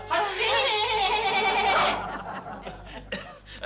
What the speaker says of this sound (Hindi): आपने घर में बकरा पाल रखा है क्या?